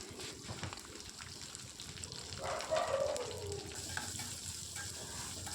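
Chopped onions and green chillies sautéing in oil, a low steady sizzle with gentle stirring scrapes swelling briefly midway, quiet and close.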